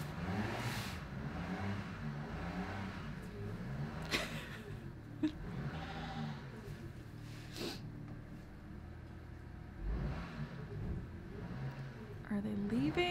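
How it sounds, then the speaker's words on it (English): A car engine runs steadily at a distance outside a German farmhouse, a low faint rumble with occasional louder surges. "Are they leaving or just running the car?"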